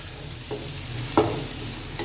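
A steady sizzle of onions, ginger, green chillies and tomatoes frying in a pan for mixed vegetable curry, with a few soft stirring scrapes and a brief clatter midway.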